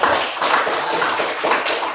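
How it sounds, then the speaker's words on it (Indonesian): A classroom of seventh-grade students claps steadily for a classmate, a dense, loud patter of hands sustained throughout without a break. "Sekali lagi tepuk tangan untuk"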